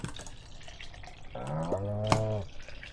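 A single long cow moo from the video game Stardew Valley rises out of a soft background, with a faint drip-like click partway through and low noise around it.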